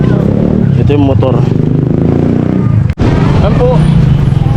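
A motorcycle engine runs loudly and continuously, with voices talking over it and a sharp clunk near the end.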